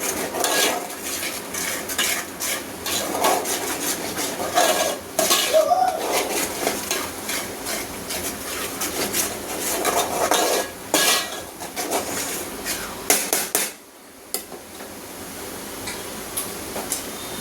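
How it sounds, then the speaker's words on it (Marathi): A spoon stirs and scrapes Malvani masala around a pan, giving steady clinking and scraping with a soft sizzle beneath, close and fairly loud. "त्याला आपण चांगलं परतूया."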